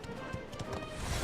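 Horse hooves clopping across a bridge in the role-playing game Dragon Quest XI, a quick run of faint rhythmic thuds under a low wash of background sound.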